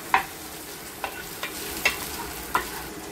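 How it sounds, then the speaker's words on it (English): Ingredients for a wild mussel dish stirred in a frying pan, a handful of soft scraping clacks spaced irregularly over a quiet background hiss. "But while waiting, we'll just keep on stirring."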